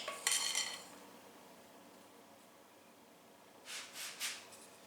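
An offset spatula spreads an orange mixture across rolled dough for sweet orange rolls, giving a short burst of scraping and clinking at the start, a quiet stretch, then a few more scrapes near the end, all close by.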